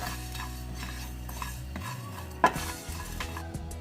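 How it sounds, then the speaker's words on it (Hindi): Coriander and cumin seeds roasting in a pan give off a soft, steady stir-and-scrape texture with light sizzling, plus one sharp clink of a utensil against the pan partway through. "ये देखिए हमारा धनिया और ज़ीरा हम फ्राई कर रहे हैं इसको।"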